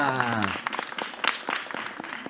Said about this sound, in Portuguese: Um aplauso para Mônica